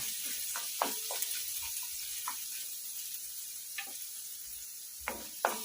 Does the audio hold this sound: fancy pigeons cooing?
no